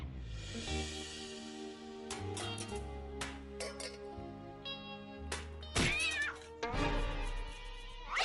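Cartoon cats in a Johnny Test episode meow and caterwaul in a series of loud, drawn-out and shrill yowls, with several voices overlapping and one cry sliding sharply in pitch near the end.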